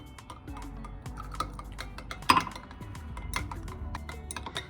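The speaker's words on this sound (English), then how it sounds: "Now I'm stirring a little bit rapid, but not too fast, not too slow." A spoon clinks and taps against a bowl while a homemade natural moisturizer mixture is stirred at a moderate pace, a quiet, irregular stream of small clicks with one sharper clink midway.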